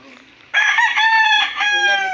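A backyard rooster crows once, loud and close, a long ringing cock-a-doodle-doo after a brief quiet start, with faint clucking from farm chickens around it.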